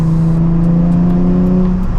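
Nissan 350Z HR with a freshly cleaned engine bay cruising on a road, its engine giving a steady, loud low drone with a faint whir on top, easing off near the end.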